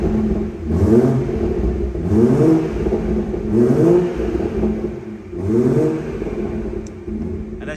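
A BMW M240i with M Performance exhaust in sport mode, valve open, revs up close: four throaty rev blips rise and fall in a steady rhythm, each trailing off into a burbling exhaust note, with no talking.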